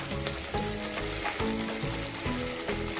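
Chicken frying in oil for Mughlai chicken changezi, a loud steady sizzle with rhythmic scraping strokes of stirring in the pan, close and without voices.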